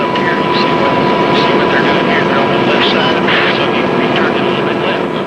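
A steady, loud drone from military aircraft during the 1991 Gulf War, French Jaguar jets and US Apache helicopters, fills the whole clip, with a faint voice speaking over it.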